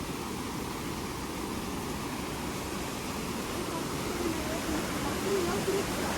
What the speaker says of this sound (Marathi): कपडे धुतात तर कसलो धबधबो हा बघा.